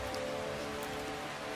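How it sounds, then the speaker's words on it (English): Steady rain patters on leaves in a forest habitat at night, a dense, continuous hiss of droplets filling the whole span at an even, moderate level with no voices. "Their sensitive hearing amplifies the sound of rain on leaves, making insect hunting nearly impossible."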